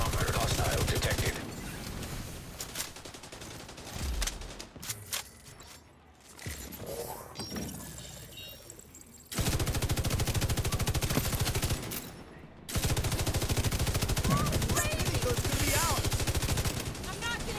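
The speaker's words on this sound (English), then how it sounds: "LMG sniping." Sustained light machine gun fire in a video game: long, loud, rapid automatic bursts with a brief lull of scattered shots and mechanical clatter between them, and voices faintly underneath.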